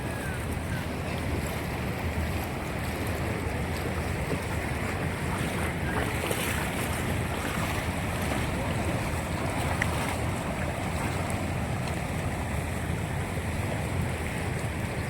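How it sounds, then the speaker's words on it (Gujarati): A full, brimming river rushes continuously with a broad, churning roar, mixed with wind buffeting the microphone; no talking is heard. "ખળર ખળર કરતા નદી જાય છે અત્યારે"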